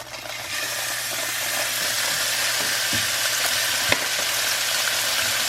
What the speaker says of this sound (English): And the rest of my steak is going to sizzle some.